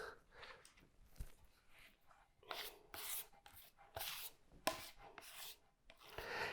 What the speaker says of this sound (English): So I'm gonna get my knife, and now I'm just gonna scrape the whole top.